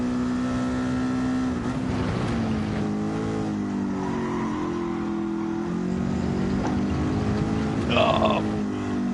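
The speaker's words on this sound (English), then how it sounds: "I've got a few spots where I'm still over revving." A race car engine in the GT racing game strains at high revs, holding a sustained droning pitch that sags and climbs through shifts, with a brief higher whine near the end and muffled speech underneath.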